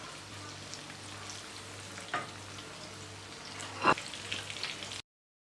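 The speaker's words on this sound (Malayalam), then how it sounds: "ബാക്കിയുള്ള ചിക്കൻ കഷ്ണങ്ങൾ നമുക്ക് ഇതുപോലെ തന്നെ വറുത്തെടുക്കാം" Chicken pieces frying in hot oil for a Kerala chicken roast, a steady close sizzle with a couple of brief stirring scrapes and no talk.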